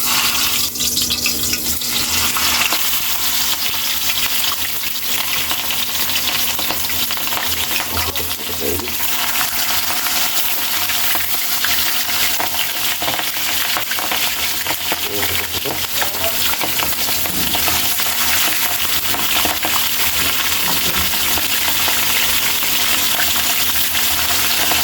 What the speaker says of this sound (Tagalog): Dahil mainit na yung mantika natin, Kaylee, pa-fried na natin ang ating bangus.